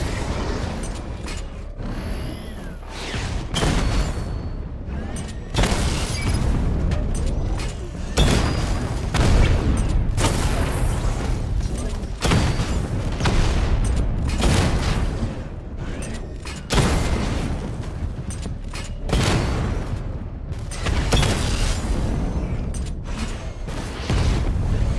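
Repeated heavy blasts from the Batmobile's missile barrage in a Batman video game arrive every couple of seconds. Each is a loud, rumbling boom followed by mechanical clanks and creaks between impacts.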